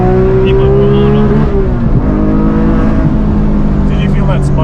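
A Porsche 991 GT3 Touring engine wails at high revs from inside the cabin, loud and sustained, with its pitch dipping briefly as the engine stumbles around 8,500 RPM.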